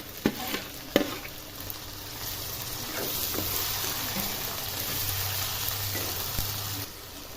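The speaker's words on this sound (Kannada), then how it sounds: "ಎಣ್ಣೆಲೆ ತರಕಾರಿ ಸ್ವಲ್ಪ ಚೆನ್ನಾಗಿ ಕುದಿಬೇಕಿದು" Cut vegetables fry in hot oil for a simple vegetable upma, a steady close sizzle with a few sharp clinks and scrapes of a stirring spoon against the pan, no voices over it.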